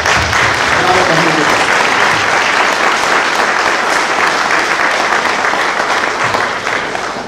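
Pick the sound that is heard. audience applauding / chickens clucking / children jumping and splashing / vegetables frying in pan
audience applauding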